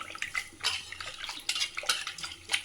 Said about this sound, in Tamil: புளியை கரைச்சி எடுத்துக்கலாங்க